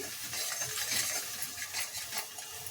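Masala for vegetable saagu frying in a pan, a dense crackling sizzle mixed with light metallic scraping of a spoon, close and continuous for a few seconds, with no voices.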